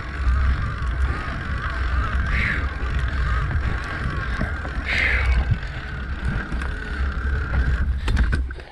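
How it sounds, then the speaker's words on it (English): Electric mountain bike ridden on a dirt trail in turbo mode, with steady rumbling tire and motor noise, loud wind buffeting on the microphone and a few faint clicks and rattles. "this is the e-bike in turbo mode"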